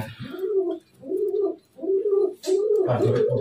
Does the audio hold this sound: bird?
yes